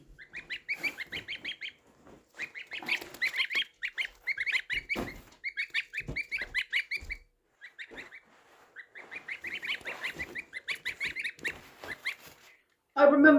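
Geese and ducks honk and quack in repeated bursts close by, a noisy flock calling on and off with short pauses.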